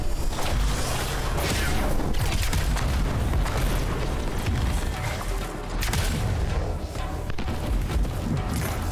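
Flak cannon turrets in Anthem pound out a dense, continuous barrage of booming blasts and rumbling low-end explosions, loud and close with no talk.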